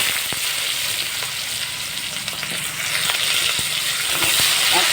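Chopped onions hit hot oil already holding dried red chillies and cumin seeds, giving a loud, constant close sizzle with scattered crackles and occasional stirring scrapes and no voices.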